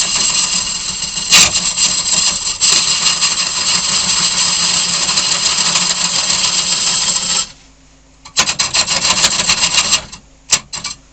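Woodturning with a Hollowform hollowing tool: a loud, continuous scraping rasp of the cutter against spinning wood that cuts off, then resumes in shorter bursts with brief pauses.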